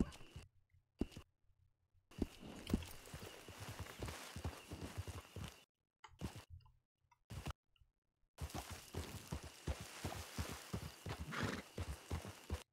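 Horses clip-clop in Red Dead Redemption II, with bursts of steady hoofbeats at a walking pace, broken by short pauses and one quiet gap, loud and close with no talking.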